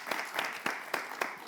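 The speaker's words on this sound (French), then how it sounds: "Est-ce qu'on peut accueillir M. Gounou avec des applaudissements, s'il vous plaît?" Audience clapping to welcome a guest, with a few distinct, rhythmic group claps spaced evenly over a faint background of scattered applause.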